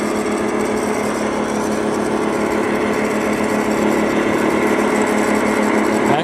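A radio-controlled truck fitted with an ISDT speed control grinds through a rocky strip, its small motor whining continuously and loudly at close range with no talk.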